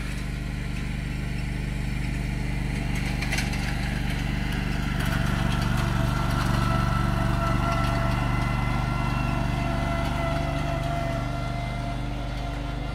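A tractor engine works on a steep slope, a steady low mechanical drone that runs the whole time and swells slightly midway, fairly close and alone without talk.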